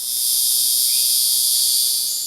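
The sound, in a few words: Guiana cicada males calling loudly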